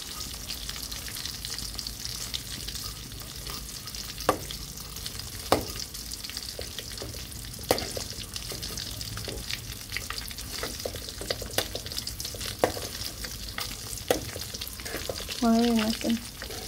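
Fish deep-frying until crisp in a pan gives a steady, dense sizzle close by, broken by occasional clicks and scrapes of stirring, with no talk.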